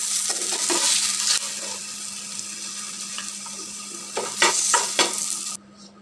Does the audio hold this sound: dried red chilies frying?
yes